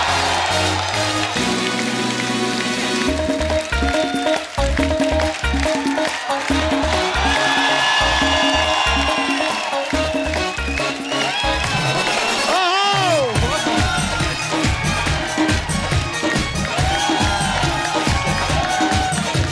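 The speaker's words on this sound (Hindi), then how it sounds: "जोरदार तालियां।" A television comedy show's studio audience breaks into loud, sustained clapping and cheering as guest actors are welcomed, a dense crowd roar with music layered over it throughout.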